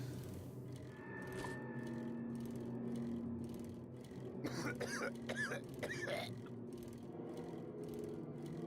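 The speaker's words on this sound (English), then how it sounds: "That coughing sounds so healthy," A few harsh, raspy coughs and throat-clearing bursts from a feral zombie in an insane-difficulty 7 Days to Die 2.0 survival game, rising midway over steady game ambience and music, moderately close.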